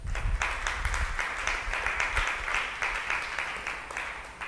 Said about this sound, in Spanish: démosle un aplauso a mi mamá